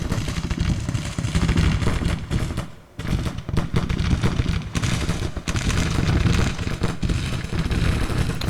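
Musket volleys and artillery fire from a Grand Tactician: Civil War battle, a dense, continuous barrage of overlapping cracks and booms that briefly drops off before resuming at full intensity.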